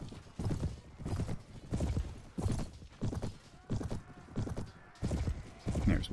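Horse hooves clip-clop in rhythmic clusters of beats as a mount trots across ground in the medieval video game Mount & Blade, fairly close and moderately loud with brief gaps between strides.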